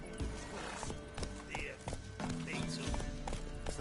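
Roach, the horse in The Witcher 3, trots with quick clip-clop hoofbeats and lets out a whinny, close and clear, with a voice speaking over it.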